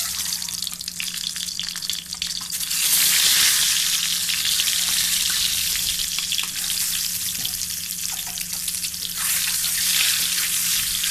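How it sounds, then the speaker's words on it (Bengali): Eggs coated in salt and turmeric frying in hot oil in a pan, a loud continuous sizzle with faint scraping and water-like crackle, rising sharply partway through and staying strong to the end, with no voices. "এখন আমি এই তেলে লবণ হলুদ দিয়ে মেখে রাখা ডিমগুলো একটু হালকা ভেজে নেব"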